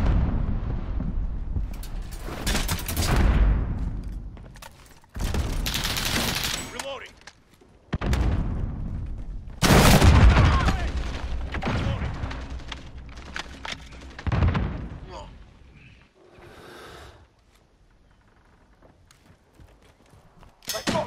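Cruise missile blasts and gunfire in Call of Duty Modern Warfare, heard as a string of loud, booming explosions and crackling shots that come in bursts and then ease off, with voices in the mix.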